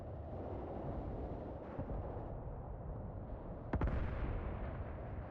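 Mortar rounds strike a position in the WW2 game Mius Front, a low rumbling background broken by one sharp nearby blast near the end, with no speech.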